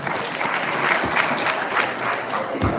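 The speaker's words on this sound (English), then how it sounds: "Let's clap for him as he comes." Steady applause from a crowd, dense and sustained clapping throughout with no pauses.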